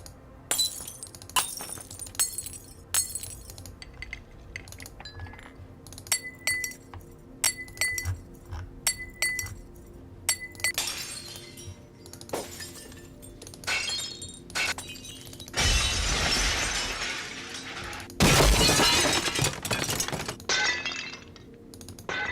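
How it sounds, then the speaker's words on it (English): A sound-effects collection of glass: many sharp, separate clinks and chinks ring out in irregular bursts, then two louder, dense crashes of glass shattering close up near the end, with no talking. "It's just a nice collection of glass sounds."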